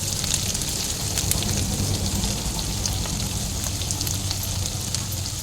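Potatoes frying in a pan until browned, giving a steady close crackling sizzle with fine popping throughout, no voices.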